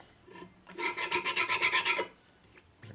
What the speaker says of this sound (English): I'm going to file across that and make sure there's no burrs on there.